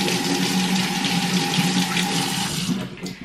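Tap water runs steadily into a sink, rinsing a wine aerator, a constant splashing hiss close by that tapers off near the end.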